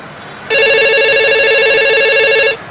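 A telephone rings once, a loud electronic trilling tone lasting about two seconds, close by with no voices.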